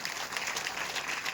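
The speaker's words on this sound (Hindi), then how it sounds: "अब ताली नहीं बजाओगे?" Congregation clapping at a church sermon, a dense steady wash of many hands throughout, fairly loud and even with no voices on top.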